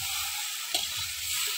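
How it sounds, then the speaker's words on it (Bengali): Meat being sautéed in a pot over a picnic cooking fire, a brief steady sizzle with a soft stir or scrape midway. "এখন এটা কষাতে হবে 1 ঘন্টা ধরে, যত কষাবা তত ভালো।"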